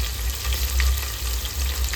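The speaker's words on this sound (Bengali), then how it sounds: "এখানে সব ভাজা দিয়ে দিয়েছে, গরম মশলা আর জিরেটা ভেজে নেওয়া হয়েছে" Garam masala and cumin frying for a mutton dish, a steady close sizzle with soft crackles and a low rumble underneath, continuous throughout.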